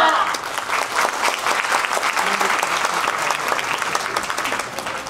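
An audience in a theatre applauds steadily after a yosakoi dance performance at an Osaka festival, a dense sustained clapping that holds loud and even and then eases slightly at the end.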